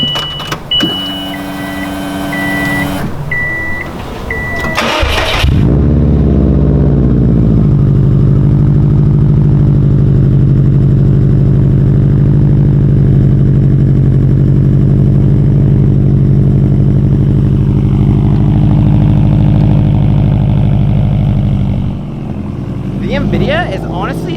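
A Subaru fitted with an aftermarket exhaust starts up after a few seconds of quieter activity, then settles into a loud, steady, deep idle that runs close and continuous for most of the stretch.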